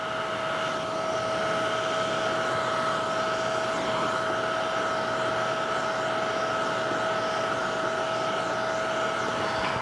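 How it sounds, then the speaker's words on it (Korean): A hair dryer blows continuously and loudly nearby, a steady whooshing rush with a constant whine and no change in level. "그리고 이 드라이기를 쓸 때 방향은"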